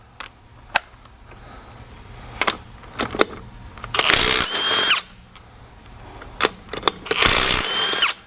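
A Milwaukee cordless impact wrench works on a car lug nut, giving two short loud hammering bursts among scattered clicks and handling knocks.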